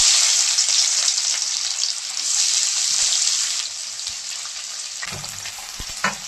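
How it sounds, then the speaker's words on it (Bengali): Chopped onion hitting hot mustard oil in a pan, a loud, bright hiss of frying that holds steady for several seconds, then drops to a quieter sizzle with a few utensil knocks near the end, no voices. "এখন পেঁয়াজটা দিয়ে দিচ্ছি।"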